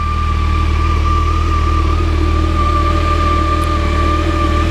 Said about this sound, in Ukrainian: працює мотор після ремонту, ось так він їздить